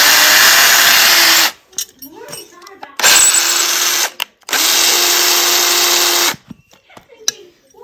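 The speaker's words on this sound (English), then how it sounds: "Now it's time to drill the holes in the bracket that we're making" A power drill whines loudly in three sustained bursts separated by short pauses, drilling holes in a metal bracket, with faint clanks and handling noises between runs.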